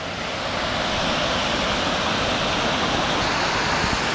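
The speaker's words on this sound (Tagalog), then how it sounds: "Ito yung mismong falls." Daranak Falls waterfall roaring in a steady, dense rush of falling water, loud and close, with constant broadband spray and no voices over it.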